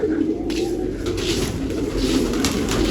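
Pigeons coo steadily in a loft while being fed grain, soft repeated murmuring calls close by over a constant low background hum.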